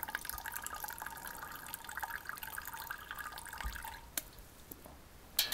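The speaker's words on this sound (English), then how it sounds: "I'll let all that liquid drain out of there that I can" Liquid drains out of a lifted grain bag during home extract beer brewing, giving a quiet trickle and dripping into the pot, with a few louder splashes near the end.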